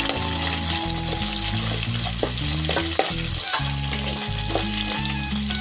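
Ginger for bilimbi pickle frying in a pan, a loud continuous sizzle with stirring scrapes and occasional clicks of the spoon against the pan.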